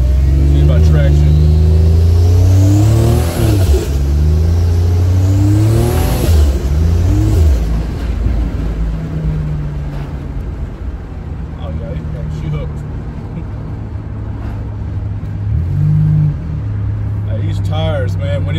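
A Buick Grand National on new lowering springs pulls away and accelerates, its engine note rising loud and close, with people talking over the drive.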